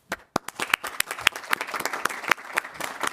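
Scattered clapping breaks out at a city council meeting, a small room's worth of hands applauding in uneven, sharp claps that start abruptly and continue steadily.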